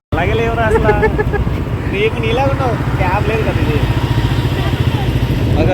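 Motorcycles on a group office trip to Vanjangi rumble with a loud, close, steady engine drone and rhythmic putter throughout, while voices talk over the noise.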